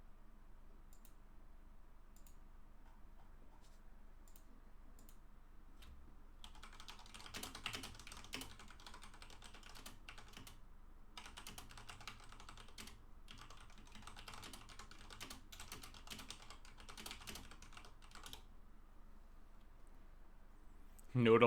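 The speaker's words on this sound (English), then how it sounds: "Let me type in the chat again." Quiet typing on a computer keyboard, rapid irregular key clicks in several bursts with short pauses between them, close and soft, with occasional speech in the background.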